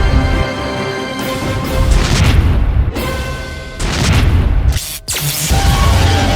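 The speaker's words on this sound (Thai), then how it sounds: "นั่นระเบิดเลย" Explosions in the Roblox video game, set on a playground under attack, with loud booming blasts and crashing bursts filling the clip and a sharp cut-off near the end.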